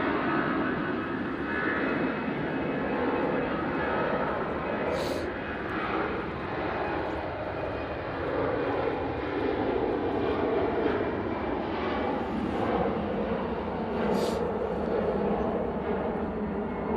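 Emirates Airbus A380 airliner departing Manchester Airport, its engines a loud, steady, broadband roar sustained throughout without letup.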